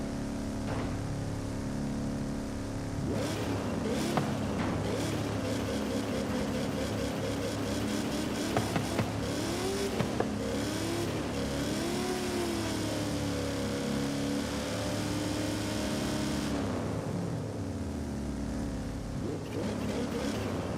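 Ford Mustang engine sound from the Forza Horizon 5 racing game: a steady droning hum that holds through the clip, with rising and falling revving sweeps in the middle. The drone fades in pitch toward the end.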